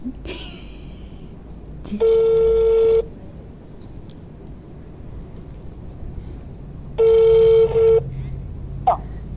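Two separate bursts of telephone dialing tones while a call is placed, each about a second long with quiet room noise between them.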